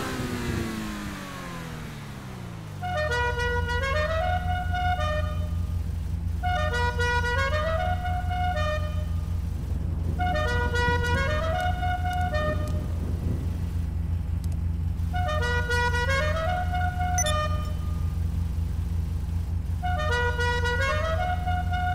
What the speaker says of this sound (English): now I'm gonna let you listen to his horn